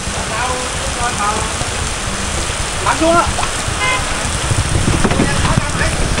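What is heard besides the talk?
heavy rain falling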